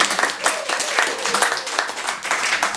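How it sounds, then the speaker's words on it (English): An audience applauds at a poetry reading, a dense, steady wash of many hands clapping together for a few seconds, fairly close and even in level. "let's have an applause."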